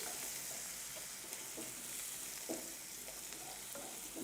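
Cauliflower and onions fry in oil in a pan with a steady, close sizzle while a spoon stirs them, adding a few soft scraping knocks, with no talking.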